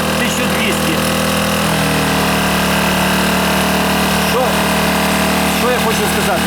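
A Newton 1–1.2 kW inverter generator carries an 1100 W load, its engine droning loud and steady with a lift in revs partway through, while someone speaks over it.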